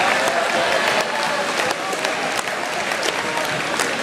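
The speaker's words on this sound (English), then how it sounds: "Give yourselves a round of applause." Steady applause from a school audience at a book event at Newton South, a dense wash of clapping held evenly for about four seconds with a faint crowd murmur underneath.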